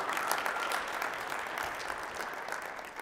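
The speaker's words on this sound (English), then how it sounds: "Can you guys help them clap?" Keynote audience clapping at a real estate wholesaling event, a steady broadband patter of many hands held at an even level throughout, with no talk over it.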